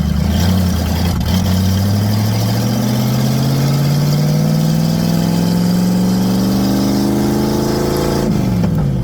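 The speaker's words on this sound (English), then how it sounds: "right now I think we only got first gear. Trying to keep it going and drive." Ford Mustang with a transmission fault stuck in first gear, engine revving steadily upward in pitch for several seconds as it drives, then dropping off near the end, loud and close.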